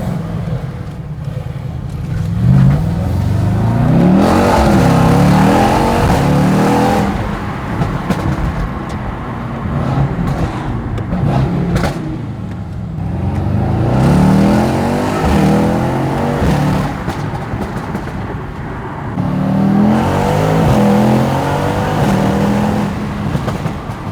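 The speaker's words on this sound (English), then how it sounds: "We'll do a little pull for you guys to show you the shifting" A stage 2 tuned Mercedes E63S wagon accelerates hard, the loud engine note climbing in repeated sweeps, each broken by a brief dip at a gear shift, three or four pulls in a row.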